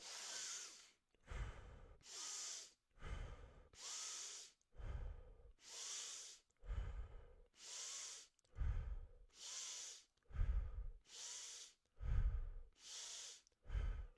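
Slow deep breathing exercise: about a dozen long, hissing inhales and exhales alternate in a steady rhythm, close and fairly soft, with brief pauses between and no speech.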